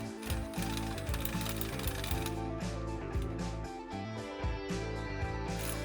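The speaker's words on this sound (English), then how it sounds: "using an E10 socket, remove the stud completely" A ratchet wrench with an E10 Torx socket backs a stud out of a transmission mount on a 2020-2025 Ford Explorer, giving a rapid, continuous metallic clicking, close and loud, with brief pauses between strokes.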